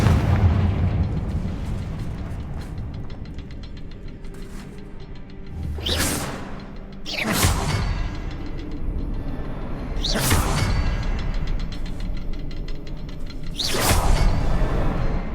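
Confringo fire spell in the video game Hogwarts Legacy, cast during roleplay: several loud whooshing blasts and booming bursts erupt one after another over a rumbling background, with no talking.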